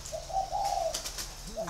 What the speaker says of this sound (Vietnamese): mình có mua được của thợ bẫy một con chim chòe than